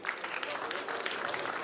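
An audience at a Menstrual Hygiene Day celebration at Busia Polytechnic claps together, a fairly faint, even patter of many hands with voices mixed in.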